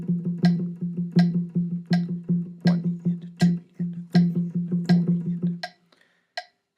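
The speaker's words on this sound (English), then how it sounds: "you may even get out a metronome and say work it at tempo" Metronome ticking steadily at 80 beats per minute for a funk guitar exercise, with regular sharp clicks over a sustained low note, close and clear, stopping near the end.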